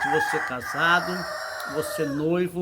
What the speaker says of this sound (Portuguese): olha o galo cantando